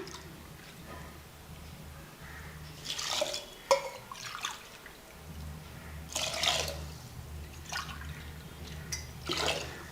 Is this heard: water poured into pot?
yes